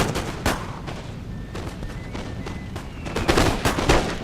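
Musket volleys from infantry units in a video game battle, scattered sharp cracks and overlapping shots at varied distances, some near and loud, others distant, with a dense burst toward the end.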